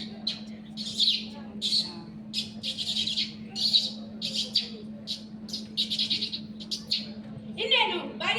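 One person's voice imitates birds singing in a tree, in a run of quick, bright chirps and tweets in short rhythmic bursts over a steady low hum, during a mimicry competition performance.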